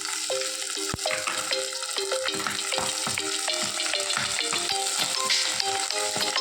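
Curry leaves sputter and crackle in hot oil with mustard seeds and garlic during a South Indian tempering, a dense close sizzle dotted with sharp pops throughout.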